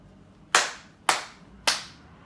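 Three crisp hand claps for camera sync, clapped along in a steady rhythm about half a second apart, moderately loud with short room decay and no voices.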